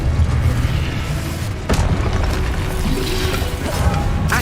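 The Confringo explosive spell in the Hogwarts Legacy video game, a dense booming blast with rumbling crashes and sharp impact hits layered over continuous loud battle effects.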